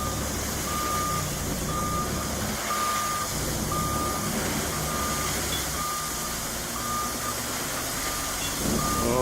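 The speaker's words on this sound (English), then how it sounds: "This driver is so skilled that he managed to spread gravel from the truck in reverse." A gravel truck reverses while spreading gravel, its backup alarm beeping steadily in an even rhythm over a continuous low engine rumble.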